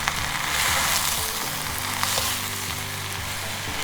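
Spinach sizzling in a pan while being stirred, a dense steady frying hiss throughout, close and moderately loud, with faint clicks of the utensil.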